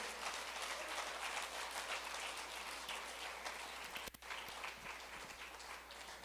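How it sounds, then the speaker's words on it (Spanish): Applause from a church congregation at a Spanish-language service, a steady wash of many hands clapping at moderate distance for about six seconds, with a brief dip near the end. "Dale un aplauso al Señor."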